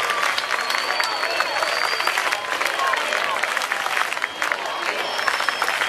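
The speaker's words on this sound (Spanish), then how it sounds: "Venga, ese aplauso." Crowd applause at a drag queen gala in Las Palmas de Gran Canaria, steady clapping from a sizeable audience with cheers and a whistle mixed in, moderately loud throughout.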